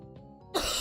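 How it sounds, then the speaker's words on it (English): A person gives a single short cough and clears their throat. It is a brief, close burst that comes right after a moment of near quiet. "At least today it doesn't hurt to cough"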